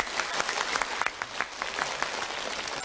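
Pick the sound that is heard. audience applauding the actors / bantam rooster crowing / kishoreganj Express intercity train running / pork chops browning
audience applauding the actors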